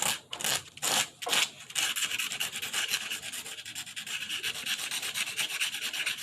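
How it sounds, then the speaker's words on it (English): A tool scraping dried watercolor paint off paper, a close dry rasping with a few separate strokes at first and then steady continuous scraping. "I'm actually scraping off a bunch."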